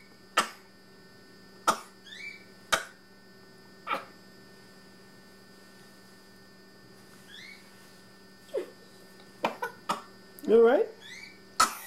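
A young child gives several short, sharp coughs spread out over time above a steady electrical hum, and an adult briefly speaks.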